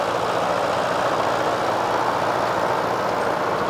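A steady, loud engine drone runs throughout with a heavy low rumble from a four-wheel-drive tractor with its engine mounted out the front, idling or chugging nearby.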